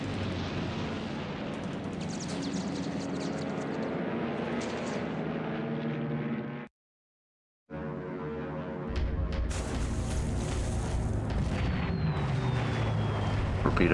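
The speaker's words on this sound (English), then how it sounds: "Torpedo hit on the Idaho." A ship struck by a torpedo in a naval war game, the Idaho, erupts in deep, sustained rumbling blasts with dense explosive noise. The sound cuts to silence briefly midway, then resumes with heavier low booms.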